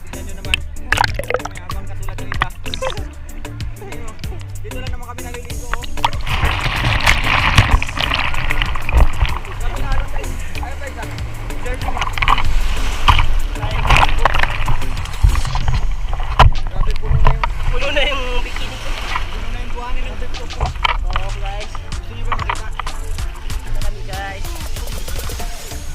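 Sea waves wash and break at Jumeirah Beach in a steady broadband rush with splashing surges, while people talk nearby throughout.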